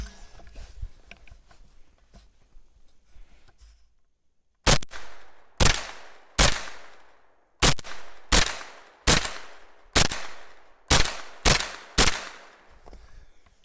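Ten sharp, loud shots from a 9mm Foxtrot Mike FM9 side-charging 10.5-inch AR pistol, fired at a steady pace from a right-leaning barricade after a few quiet seconds, each crack followed by a brief outdoor echo.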